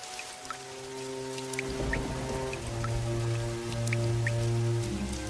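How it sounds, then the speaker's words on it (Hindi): Rainwater dripping through a leaking house roof, with a patter of drops and steady rain over a sustained musical drone. "ये छत को देखो कैसे टपक रही है"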